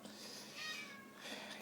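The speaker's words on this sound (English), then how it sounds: "If you hear the cat in the background" A cat meowing in the background of a knife workshop, a faint, drawn-out, rising cry over steady room hiss, far from the microphone.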